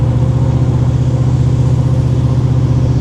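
A Chevrolet Monte Carlo SS, running on a newly installed heavy-duty transmission, cruises at a steady road speed with an even, continuous engine drone and no audible shifts.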